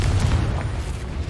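Confringo spell blast in a wizarding video game: a deep, rumbling explosion that stays dense and loud for its whole short length, with no talking over it.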